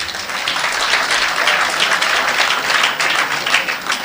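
A crowd at a town hall forum applauds with steady, sustained clapping that stays loud and even throughout.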